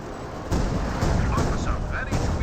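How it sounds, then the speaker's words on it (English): Artillery barrage shells landing in Company of Heroes 2, a steady rumbling roar of distant impacts with several heavier thuds rolling through, while a voice talks over it. "Large number of rounds do come down"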